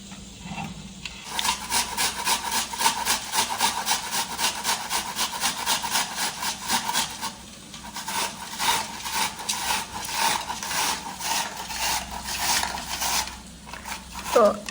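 Onions and tomatoes rubbed against a hand grater for a Saurashtra-style bhungra potato masala, a steady, loud rasping stroke repeated rapidly and evenly, pausing briefly midway before resuming.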